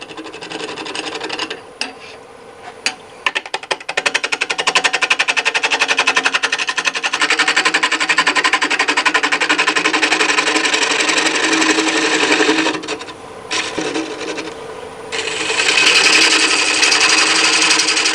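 A wood lathe turns out the interior of a natural-edge winged bowl: a loud, continuous raspy cutting noise that runs steadily with a few brief dips and pauses, alone with no talk.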